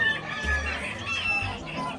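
Chickens at a poultry show cluck and crow over one another in a busy mix, close by, with the calls overlapping in a crowded hall.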